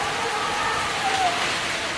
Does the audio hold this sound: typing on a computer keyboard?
no